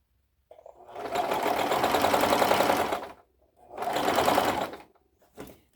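A sewing machine stitching a dress along an overlock seam runs in two sustained bursts of rapid, close mechanical whirring separated by a short pause, then starts again briefly at the end.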